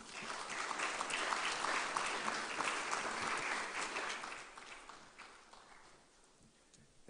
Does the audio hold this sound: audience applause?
yes